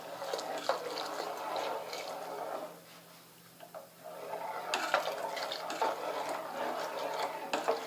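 Batter of onion and flour for sandige being stirred in a pan, a steady close scraping and sloshing with a short quieter pause midway, no voices.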